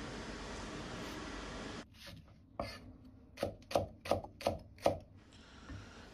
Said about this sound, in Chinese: 大蔥少許切成蔥花